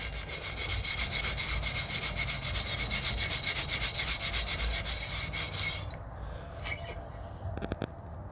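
Steel wool rapidly scrubs rust from a metal hub cap, a loud, rhythmic rasping rub of quick back-and-forth strokes for about six seconds, then a few lighter scrapes and soft handling noises.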